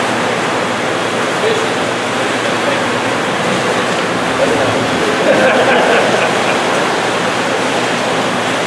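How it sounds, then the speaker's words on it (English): Water rushes into pool equipment at an aquatic center, a steady, loud, broadband roar like a waterfall that holds constant throughout with only slight swells. "Basically, water's coming in here."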